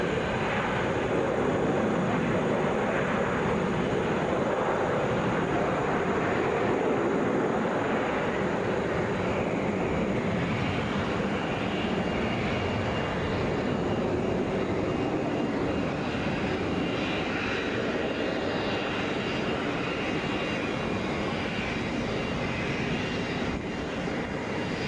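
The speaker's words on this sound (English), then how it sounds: "Touching down right now, this is Delta Flight 376 coming in from Boston, Airbus A321." A Delta Airbus A321 arriving from Boston touches down at Atlanta International Airport. A broad, sustained engine roar holds steady, heard from a distance and with no voices.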